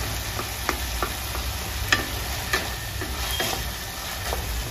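Tomatoes sauté in a pan for a no-onion, no-garlic tomato chutney, giving a steady close sizzle with scattered soft stirring clicks and scrapes throughout, with no talking.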